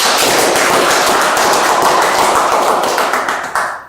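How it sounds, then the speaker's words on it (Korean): An audience at a humanities lecture breaks into loud, brisk applause to welcome the speaker, a dense crackle of clapping that holds for a few seconds and then tapers off. "박수로 맞이하겠습니다."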